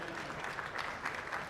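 Conference audience giving a faint, distant round of applause, a soft, steady patter of many hands clapping heard at low level throughout.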